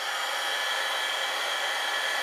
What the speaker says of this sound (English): We're going to take the heat gun and you're going to see it come to life.